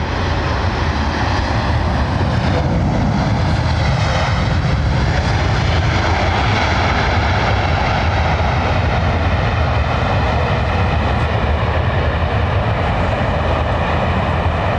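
An Airbus A330neo airliner at London Heathrow Airport produces a continuous loud, broad jet engine roar that holds steady throughout, with no talking.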